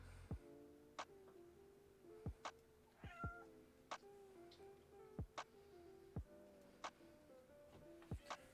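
A cat named Crookshanks meows repeatedly to be let in from outside a door. About a dozen short, fairly faint calls come at irregular intervals, with a quiet room between them.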